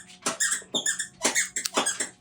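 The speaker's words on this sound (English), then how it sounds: "can you go play squeaky toy somewhere else?" Dogs chewing a squeaky toy nearby, producing a rapid, loud run of high squeaks in uneven bursts with short pauses between.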